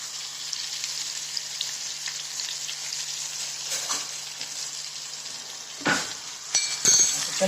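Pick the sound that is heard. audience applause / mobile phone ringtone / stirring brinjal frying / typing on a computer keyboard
stirring brinjal frying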